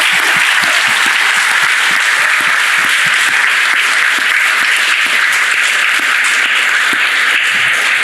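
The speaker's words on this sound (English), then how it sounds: "I want to give another round of applause to them." A crowd at a university Constitution Day debate on Title IX applauds steadily and loudly throughout, a dense wash of many hands clapping with no talk over it.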